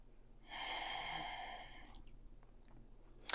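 A long, slow breath is drawn in and released during a yoga session, a soft airy exhale lasting over a second, followed by quiet room sound and a brief rustle at the end.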